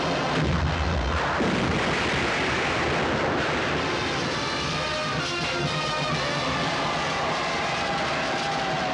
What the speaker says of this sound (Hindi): तोपों की गूंज सुनो